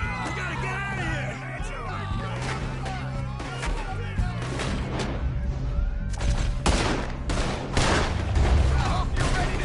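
A Red Dead Redemption 2 shootout with repeated gunshots and rapid volleys crackling over a busy background for nearly ten seconds. Shouting voices carry through the gunfire.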